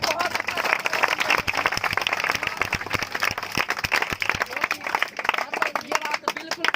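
An audience at a Teachers Day celebration in a coaching centre claps loudly, a dense stream of sharp hand claps continuing throughout, with voices mixed in.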